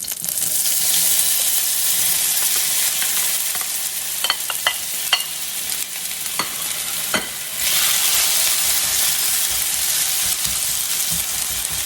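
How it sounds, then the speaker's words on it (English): Wet breakfast potatoes fry in hot oil in a pan, a steady loud sizzle broken by sharp crackling pops and spits, all without talk. "make sure you put the potatoes in away from you because they're wet and they probably will splatter a little"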